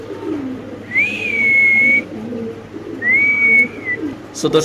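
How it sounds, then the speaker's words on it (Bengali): A pigeon gives two long, drawn-out coos, close and clear, separated by a short pause. "পাগলা ডাক নাকি ভাই একেবারে নন স্টপ ডাকা ডাকি"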